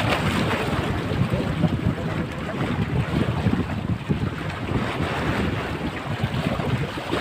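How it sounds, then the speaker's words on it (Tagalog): Strong wind at a lakeshore buffeting the microphone, a constant low rumbling roar with gusty fluctuations, mixed with a wash of water and waves. "Hangin."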